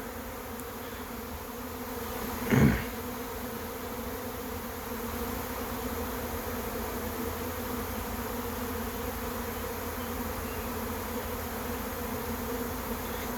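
A honey bee swarm moving into a trap box makes a continuous dense buzzing hum, steady and fairly close, with one brief louder knock early on.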